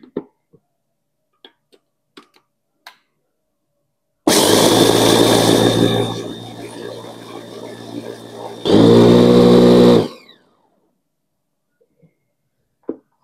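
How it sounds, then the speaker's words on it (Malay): Electric grinder milling dry fried rice into powder for northern-style ikan pekasam, starting loud with a harsh whine, settling into a steadier churn, then a second loud burst before cutting off, with quiet handling clicks around it. "Nak misin beras yang digoreng tadi tu."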